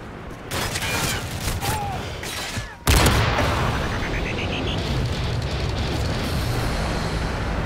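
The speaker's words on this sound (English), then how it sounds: "Enemy strafe run incoming." An enemy aircraft strafe run in the video game Call of Duty MW3 arrives as a sudden loud blast of roaring, rattling fire. Earlier gunfire and mechanical noise lead in, and a dense sustained roar follows.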